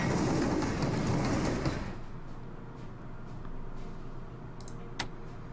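A train moving in the Strategic Command wartime strategy game, a dense rushing rumble that drops sharply after about two seconds into a quieter low hum with a few faint clicks.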